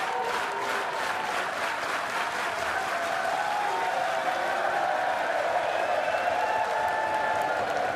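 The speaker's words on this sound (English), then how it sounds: "the crowd giving it the slow hand clap" The darts crowd at the Lakeside World Championship gives a slow handclap, evenly spaced loud claps in unison over a roaring arena, the rhythm blurring into general crowd noise as it goes on.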